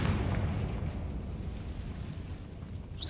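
A Confringo fire-blast spell explodes in a Harry Potter video game, a booming burst at the start that dies into a rumbling, noisy tail with no talking.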